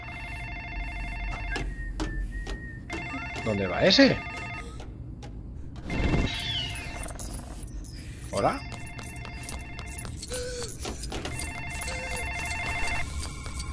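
A telephone rings repeatedly in the LEGO Jurassic World video game, bursts of electronic bell tones sounding over game ambience while voices speak Spanish.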